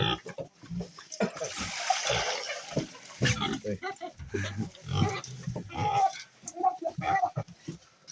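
Pigs grunting, snuffling and chomping close by while feeding, with scattered squeals and a chicken clucking in the background.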